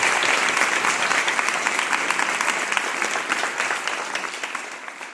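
Students and staff at a government girls' school in Sirhind applaud the principal, a dense, steady round of many hands clapping that fades slightly toward the end.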